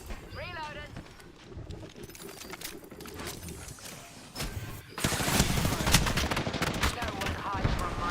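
Gunfire in the video game Apex Legends: rapid crackling shots and bursts that grow louder and denser in the second half, mixed with voices and game effects.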